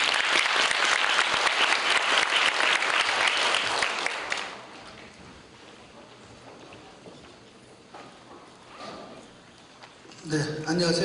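Audience applause welcoming the head judge at a university debate competition final, a dense, loud round of clapping that fills the hall for about four seconds, then drops to quiet room tone before a voice speaks near the end.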